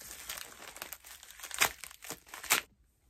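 Plastic parcel packaging from a SHEIN order crinkles and tears as it is opened by hand, with a few sharp louder rustles among steady close handling, then a brief stop.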